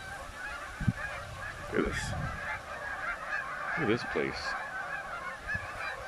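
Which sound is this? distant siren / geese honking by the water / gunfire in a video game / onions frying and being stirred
geese honking by the water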